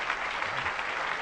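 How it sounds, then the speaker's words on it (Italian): Short burst of audience clapping during an Italian comedy sketch about a union representative, brief and even, with no voices over it. "Per Matilde l'applauso."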